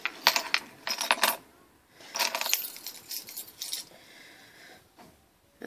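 A Timpson padlock is opened with its key: a few bright metallic jingles and clicks of keys and the lock body in bursts, close up, followed by quieter handling.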